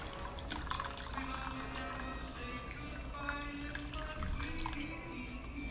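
Plain water poured from a pitcher for Trinidad-style sorrel juice, a steady liquid trickle and splash with faint drips, close and fairly quiet, running for several seconds with no talk.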